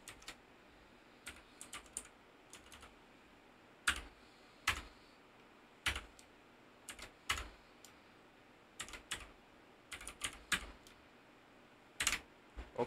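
Computer keyboard keys tapped while HTML code is typed, coming as quiet, irregular clicks and short bursts of keystrokes against a faint background hiss, with no speech.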